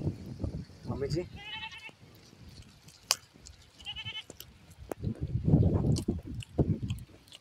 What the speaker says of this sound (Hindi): इधर हम लोग का बकरी है